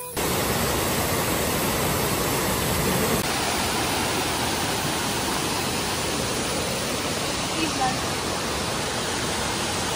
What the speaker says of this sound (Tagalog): Going to Vera Falls.